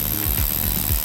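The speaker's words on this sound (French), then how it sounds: "Je pré-perce mon mur." A power drill pre-drills a hole in a wall, grinding loudly and steadily up close with a rough, pulsing motor tone throughout the short burst.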